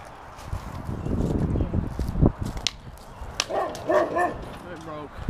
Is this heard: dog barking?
yes